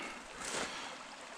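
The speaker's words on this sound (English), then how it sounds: "the nice sound of the creek" A creek on rural property flowing in winter, a steady soft rushing and trickling of water heard close by, quiet and unbroken for just over a second.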